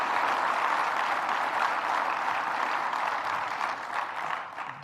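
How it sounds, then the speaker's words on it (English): Applause from an audience at a Rochester state-budget event honoring the governor, a steady, moderately distant wash of clapping that holds evenly before tapering slightly at the end. "Let's give the governor another round of applause."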